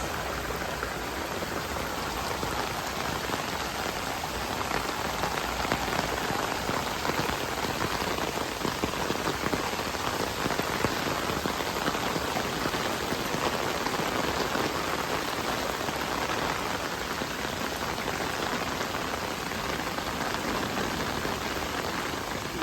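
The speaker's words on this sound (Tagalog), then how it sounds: "Malakas ng ulan." Heavy rain pours down steadily and hisses loudly on surfaces throughout, a dense unbroken wash of droplets with no voices.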